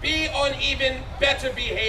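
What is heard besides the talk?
No everyday noises stand out.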